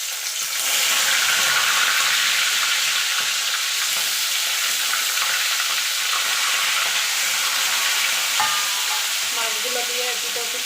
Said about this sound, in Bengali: মাছগুলো দিয়ে এপিট ওপিট করে আমি ভেজে নেবো